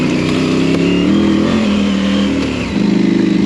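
A KTM 790 motorcycle carrying about 70 pounds of gear rides along with a steady throbbing engine note that shifts pitch slightly as it pulls, close and loud under wind rush.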